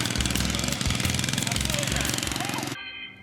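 A tractor engine chugs nearby with a rapid pulsing beat, running steadily and fairly loud before cutting off abruptly near the end, with a voice talking over it.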